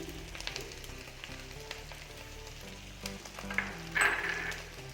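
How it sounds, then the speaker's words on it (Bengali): Chicken curry masala with tomato and whisked yogurt sizzling steadily in a pan, with scraping stir strokes and a brighter clatter near the end, no talking. "এবারে এটাকে ভালো করে মিশিয়ে কষিয়ে নেব।"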